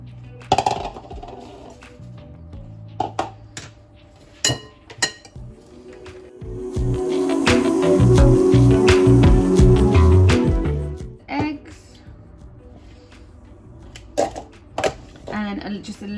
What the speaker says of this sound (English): When I'm using a little cake mixer, hand mixer like this